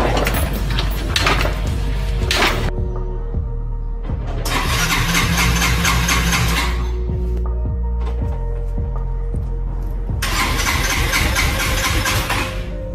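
Yamaha Mio 125 MXi scooter engine with an old fuel filter struggling to start, repeated bursts of cranking and sputtering separated by quieter rough running, loud and close throughout.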